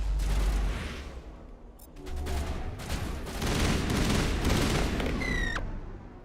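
A rapid burst of gunfire from a weapon in Mass Effect (Legendary Edition), rolling continuously for several seconds over a low rumble with mechanical clatter, ending with a rising electronic whine.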